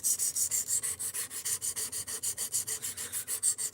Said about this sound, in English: Now we're sharpening it back up